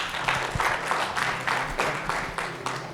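An audience at a book launch claps, a fairly close spatter of hands in uneven bursts lasting a few seconds.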